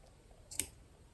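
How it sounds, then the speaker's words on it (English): Small scissors snip once through the yarn loops of a pom-pom, a single brief close click against quiet. "You're going to cut the loops is what you're cutting."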